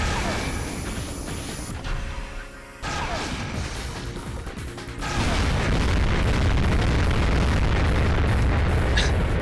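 Chain of explosions in the mech combat game Armored Core 2: Another Age, with crashing blasts and mechanical clatter that build into a loud, sustained roar of overlapping detonations.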